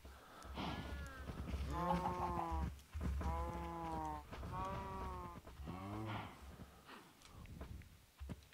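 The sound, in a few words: cow in Minecraft video game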